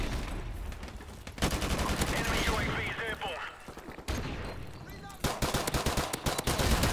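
Rapid automatic gunfire in Call of Duty Modern Warfare Remastered on Xbox One, loud bursts of rattling shots broken by brief pauses, with game sounds and someone talking in between.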